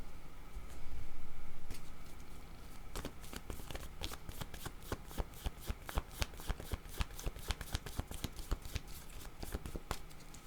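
Tarot-style cards shuffled for a card reading: a soft riffle sweep early on, then a steady run of crisp card snaps and flutters, close and fairly quiet, with no talk.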